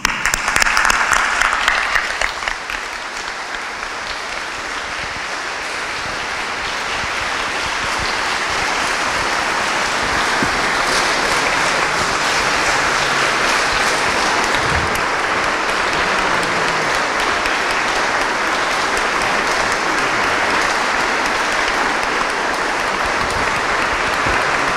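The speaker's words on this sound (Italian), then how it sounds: "Grazie Raffaella, l'applauso anche oggi è tutto per te" Sustained, loud applause from a large crowd at Raffaella Carrà's funeral, heard as a dense, rain-like wash of clapping that carries on steadily for about twenty-five seconds.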